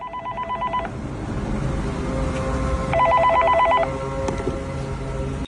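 Telephone tones from a phone set up in a public booth: two bursts of ringing or dial-tone beeps, about a second each, separated by a pause, with faint background noise and no talk.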